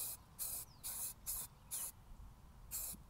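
Aerosol spray paint hissing onto brake calipers in short close bursts, five quick sprays in a row then a pause before one more burst, loud and steady against a quiet background.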